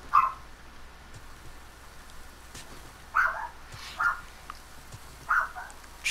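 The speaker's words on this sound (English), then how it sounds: "And here comes the dogs, barking at nothing yet again." Several dogs barking, heard as a few short, sharp barks spaced a second or so apart, fairly distant and moderately loud over a quiet indoor background.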